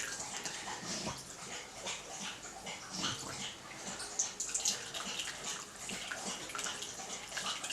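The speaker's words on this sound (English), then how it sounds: "all the liquid will just drain out" Shellfish stock drains through a colander set in a bowl, giving a steady, close, broadband trickle and splash of liquid that runs throughout with small irregular bursts and no talking.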